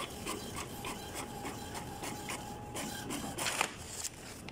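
An Epson M200 printer prints with a repetitive rasping, rubbing shuttle motion, quiet and close, the mechanism's strokes recurring in a steady rhythm with a slightly louder burst near the end.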